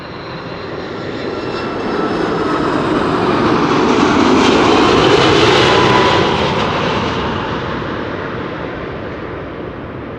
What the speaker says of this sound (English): Fluffy landing, as often is the case with A330s.